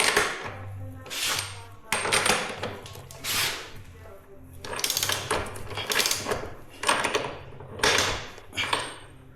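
Tools working the chain adjuster bolts on a Hero Eco 150 motorcycle during chain maintenance give a series of close, repeated metallic clicks and scrapes in irregular bursts, with short pauses between turns.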